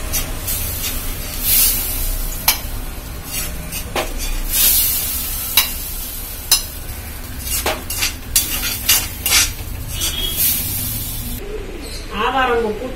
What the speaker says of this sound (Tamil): இப்போ அடுப்பு ஆஃப் பண்ணிட்டு நம்ம கிண்ணத்தில் மாற்றி வச்சுக்கலாம்.